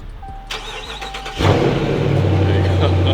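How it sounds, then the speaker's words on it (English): A Dodge Charger's engine cranks briefly and fires up, then settles into a steady low idle close by, preceded by a few clicks and faint background sounds. "No, you gotta hold the brake and start the car."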